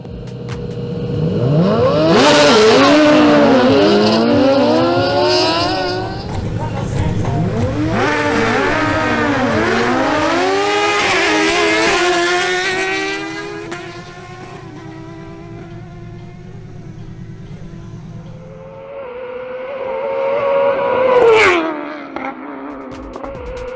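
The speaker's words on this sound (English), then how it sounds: "a duel between Edward Manzano on his Suzuki GSX-R1000 and Dan Monsalve on his Honda CBR1000RR takes place" Suzuki GSX-R1000 and Honda CBR1000RR superbikes in a drag racing qualifying duel scream past at full throttle, loud rising and falling engine howls with rapid upshifts and Doppler sweeps, fading off before a final closer rev.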